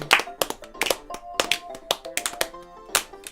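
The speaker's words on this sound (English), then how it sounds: "Clap it out, guys." A small group of podcast hosts claps together at a New Year's gathering, a few loose, uneven bursts of hand claps close to the mic, with some voices mixed in.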